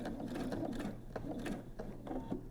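A sewing machine runs steadily while stitching a seam on a fabric bedside pocket organizer. Its close, continuous mechanical whir and rapid needle chatter last throughout.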